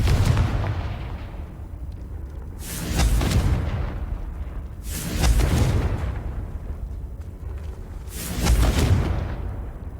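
Three heavy blasting-spell explosions in Hogwarts Legacy, each a deep booming burst that rolls off over a couple of seconds, spaced roughly every two to three seconds with low rumble between.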